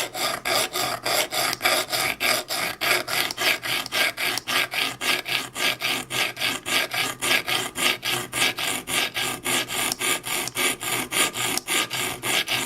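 A knife blade is sharpened on a diamond stone in quick, regular back-and-forth strokes, each a close, gritty rasp, repeating steadily for a dozen seconds with no voices.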